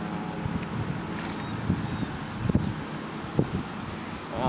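A small New Bright RC boat with hobby-grade modifications runs at full throttle on the water, a steady buzzing motor whine under wind noise and splashing, continuous and moderately close.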